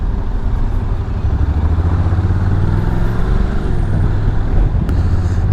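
A Honda NC750X DCT motorcycle filters through traffic with a steady, loud engine drone and wind rush throughout, surrounding road noise blending in, no voices.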